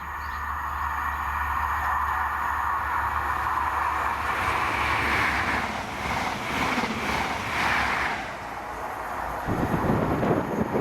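A ScotRail service with power cars 43032 and 43163 rolls past at Monifeith on the Glasgow Queen Street to Aberdeen run, a steady broad rumble with wind buffeting throughout and a heavier low-end surge near the end.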